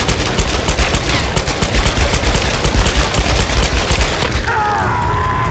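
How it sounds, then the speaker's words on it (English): Rapid, dense gunfire from Lara Croft's dual pistols in the video game Tomb Raider (2013) rattles continuously and loudly for several seconds, shots blurring into a sustained barrage with game effects near the end. "Dual pistols right at the end."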